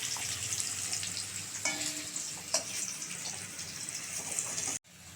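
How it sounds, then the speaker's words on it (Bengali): Potatoes frying in a pan, a steady hiss of sizzling oil with a few faint clinks and scrapes of stirring, quiet and close, cutting off abruptly near the end. "আলুগুলো লাল লাল করে ভাজা হয়ে গেছে"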